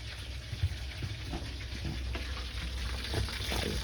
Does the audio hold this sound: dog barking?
no